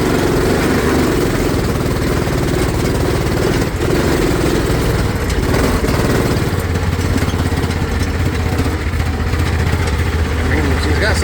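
Engine of a 5T0 Mule off-road utility vehicle, fitted with a motor 100 cc bigger than stock, driving on a trail at an off-road park; a steady loud droning engine note runs throughout, with low rumble and mechanical clatter.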